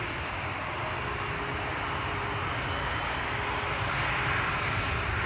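An Air Arabia Morocco airliner bound for Tangier at Schiphol Airport gives a steady, distant, fairly faint jet rumble that swells slightly toward the end.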